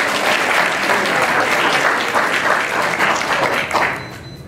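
Audience at a Tuskegee Institute welcoming event giving the principal a round of applause, a dense, steady burst of clapping that holds loud and then begins to thin out near the end.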